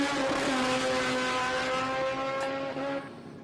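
A loud, close drag racing car launching off the line drones steadily at high revs for a few seconds before easing off slightly.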